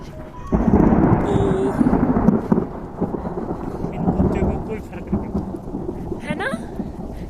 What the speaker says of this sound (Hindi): बहुत ज़्यादा बारिश लगी हुई थी